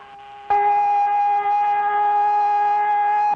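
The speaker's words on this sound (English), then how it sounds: "the sound of the siren" A steady, loud siren tone holds one pitch with bright harmonics, starting abruptly and droning on without rising or falling.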